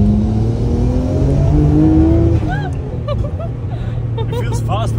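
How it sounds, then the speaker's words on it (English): Nissan R34 GTR of about 500 horsepower, driven through Miami streets, its engine loud and steady, rising in pitch during the first half and then easing. Lighter high chirps and a voice come in toward the end. "there I was driving this very special R34 GTR in the middle of Miami"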